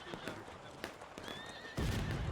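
A horse neighs in a video game cavalry charge, a drawn-out whinny over scattered hoof clops and thumps, followed by a louder rumbling surge of movement at the end.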